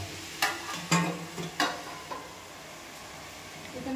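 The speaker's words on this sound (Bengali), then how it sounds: "কি রান্না করছে? ডাল।" Dal (lentils) cooking in a pot, with a spoon stirring and clinking against the metal a few times over a soft, steady sizzle. No voices.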